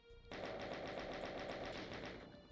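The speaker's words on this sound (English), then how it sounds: "Well, I like the chain gun" Doom chain gun firing a rapid, steady burst of loud repeated shots that starts abruptly after a brief pause and runs for over two seconds before tapering slightly.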